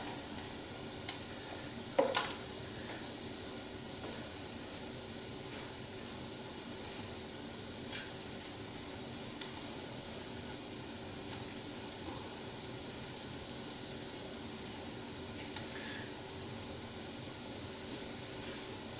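Plain fried rice sizzles quietly in a pan as it is stirred, a soft continuous hiss with a few faint scrapes and clicks from the utensil.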